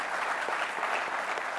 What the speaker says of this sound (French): Applaudissements pour notre jury d'aujourd'hui